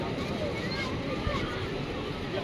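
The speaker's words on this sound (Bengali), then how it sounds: "Speed boat." A speedboat runs on the open sea at New Digha, its engine rumble blended with wind and water noise, steady and close, with voices chattering underneath.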